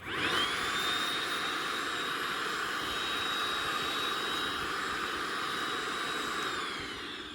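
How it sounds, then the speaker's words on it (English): A Milwaukee M18 cordless miniature vacuum running steadily in an automotive workshop: a continuous close whine with a high motor tone holding level for several seconds before easing off near the end. "So we're gonna get the Milwaukee M18, the little miniature vac right here."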